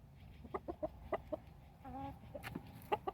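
Hens and roosters cluck in short, scattered bursts close by on a hot summer day, with a longer drawn-out call in the middle, over a quiet background hum.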